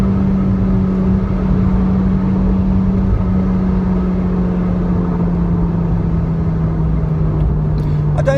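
Heard from inside a Toyota Corolla T Sport, the engine drones steadily as the car drives and gently accelerates, a low hum slowly falling in pitch, with brief talk near the end.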